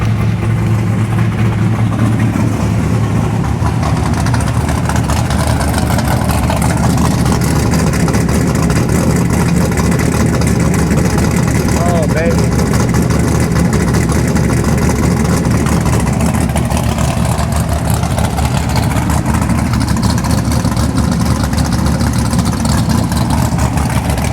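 A classic hot rod's engine runs steadily in neutral at close range for about 24 seconds, a loud, continuous low rumble with mild swells in speed and no talking.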